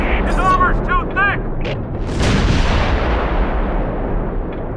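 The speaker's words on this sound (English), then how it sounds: "Ventura's gun takes return fire." Close Combat 4 battle at Baraque de Fraiture, 1944, with a gun taking return fire: heavy booming artillery and gunfire rumble continuously, loud and dense, with a brief radio-like voice at the start.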